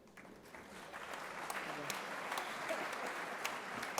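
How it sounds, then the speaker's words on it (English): Sustained audience applause fills a hall at a California Hispanic health professional student scholarship gala, a dense, even wash of clapping that holds steady and slightly swells throughout. "Let's give Dr. Elena Rios another big round of applause."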